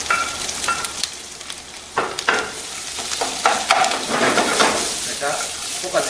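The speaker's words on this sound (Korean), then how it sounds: "야채를 미리 볶아 주시면 되겠습니다." Bell pepper, apple and cabbage are stir-fried in a hot pan, a steady sizzle broken by repeated scraping and tossing strokes of a utensil, close and lively, with no talk over it.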